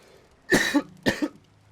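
Two sharp, close coughs come in quick succession from a commentator playing a video game, each a short harsh burst with a brief gap between them over near silence.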